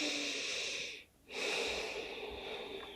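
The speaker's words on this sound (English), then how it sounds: "Deep breath here." A single deep breath in a yoga pranayama session, taken while resting in child's pose: a steady airy breathing sound with one brief pause in the middle, close and soft, with no talking.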